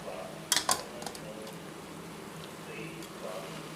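Noodles are tossed with soy sauce and chili sauce in a pan, giving a few sharp metallic clinks and scrapes near the start, then quiet stirring.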